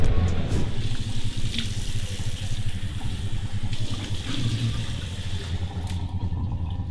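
Cold tap water runs steadily into a sink for face washing, a loud, close, continuous splashing rush with small changes as hands move through the stream.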